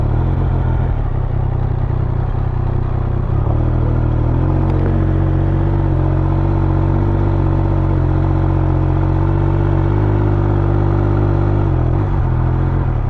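A Speed 1200 motorcycle ridden on a gravel road, its engine droning steadily and close with a constant rumble, mixed with wind and rough clattering from the loose surface, no talk.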